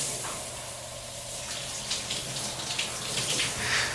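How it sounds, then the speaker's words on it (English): A shower runs with steaming hot water, a steady broad hiss of spray and splashing that holds evenly throughout with no voices. "Willie is in the shower,"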